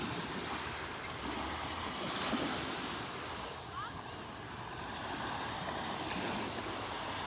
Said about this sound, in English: I mean, these are small waves, but it's a little more than we had out here yesterday.